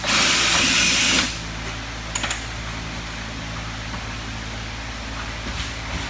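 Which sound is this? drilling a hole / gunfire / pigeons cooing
drilling a hole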